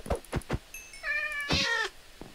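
A cat meows inside a video game on a server called Les Royaumes, a couple of drawn-out, tonal cries standing out clearly between short thumps and bursts of noise, with no talking.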